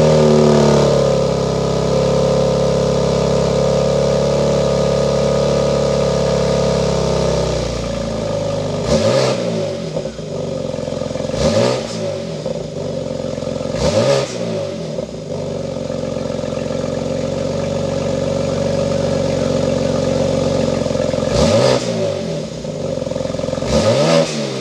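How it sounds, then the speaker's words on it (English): 2022 BMW X3M Competition idling, then sharp repeated revs of its engine, five loud blips with exhaust crackle between them, close and alone with no talk. "all these numbers don't mean anything until we hear that exhaust note"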